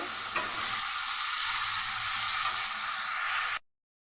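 Salted potatoes frying in a pan and being stirred, a continuous loud hiss and crackle with occasional scrapes, close up, ending abruptly in silence.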